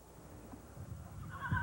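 A horse whinnies near the end of a short outdoor stretch, a rising call over low rumbling background and faint hoof or movement sounds; the horse later died of West Nile virus.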